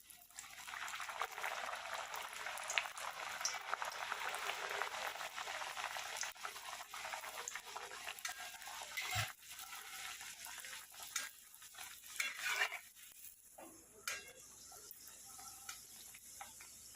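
Green pea kachuri puri deep-frying in hot oil on a high gas flame gives a soft, steady bubbling sizzle with faint hissing and a few brief clinks, fairly quiet and with no talk.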